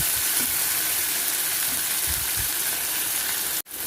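Tomato pieces sizzle and fry steadily in a hot pan for a ridged gourd curry, a continuous close hiss with a few soft stirring scrapes, ending in a brief cutoff.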